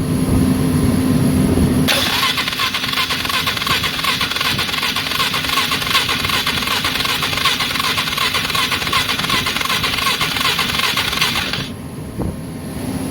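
Polaris Magnum ATV engine cranking with the key after a lost-spark repair, a quiet start giving way to a loud steady churning run for about ten seconds before it cuts off.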